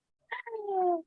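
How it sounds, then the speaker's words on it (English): A pet cat gives a single clear meow, a sharp onset followed by a drawn-out falling tone lasting under a second, close and alone. "I love my cat's meow."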